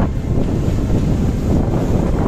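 Storm Denis drives heavy waves onto the western French coast, a steady roaring wash of surf buffeted by gusting wind against the microphone, close and continuous with no talk.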